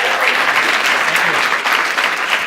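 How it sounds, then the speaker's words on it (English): An audience claps steadily throughout, a dense and fairly loud round of applause. "thanks for the applause"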